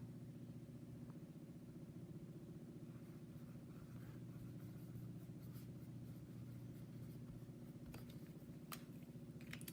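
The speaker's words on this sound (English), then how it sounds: "now I can use it to write my to-do list" Pen strokes writing a to-do list on a DIY planner dashboard come through as faint, soft scratching over a steady low hum, quiet and with no talking.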